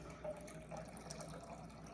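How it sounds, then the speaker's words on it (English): Fermenting liquid from a green sauce of fermented vegetables poured off in a faint, steady trickle that is close and quiet, with a few small drips. "I'm gonna pour off some of that fermenting liquid to start"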